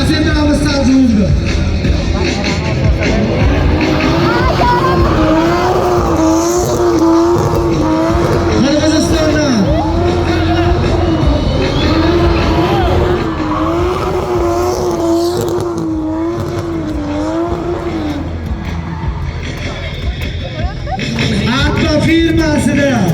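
A car drifting on stage at the Kokand moto festival, its engine holding a loud, wavering rev for the whole stretch with tire noise beneath, while a commentator's voice and crowd chatter run over it.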